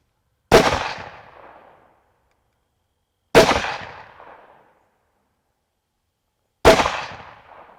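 Three loud, sharp rifle shots fired with whitetail hunting ammunition loaded with Interlock bullets, evenly spaced about three seconds apart, each with a short decaying echo over outdoor quiet.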